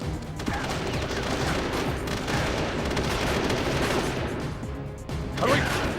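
Gunfire rattles in Metal Gear Solid: The Twin Snakes, a dense continuous barrage of shots and impacts filling the scene, loud and close, with a brief voice near the end.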